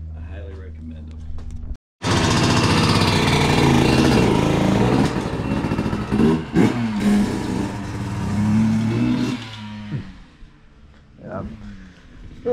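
A Yamaha YZ125 two-stroke dirt bike on a test ride roars loudly and close after a brief cutout, its engine note rising and falling before fading toward the end, with people talking.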